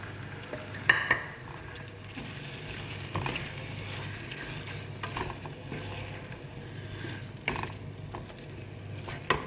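Tuna simmers and sizzles in a spice masala in a pan, giving a continuous frying hiss with occasional clinks and scrapes of stirring utensils against the cookware.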